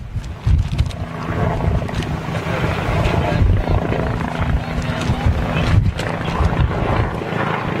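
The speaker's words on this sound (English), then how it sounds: "NYPD chopper." An NYPD police helicopter passes low overhead, its steady rotor and engine roar loud and continuous throughout, with wind buffeting and people talking nearby.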